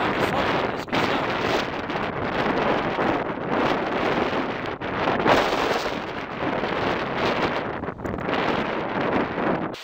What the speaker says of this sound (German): Das ist echt Amok, die ganze Zeit gegen den Wind zu laufen.